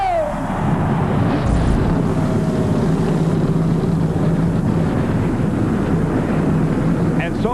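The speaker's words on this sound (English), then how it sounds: "Gentlemen, start your engines." Loud, dense roar of a full field of 1996 NASCAR Winston Cup stock car engines firing up and revving together at the track, a continuous wall of engine noise from start to finish with a crowd announcer briefly audible.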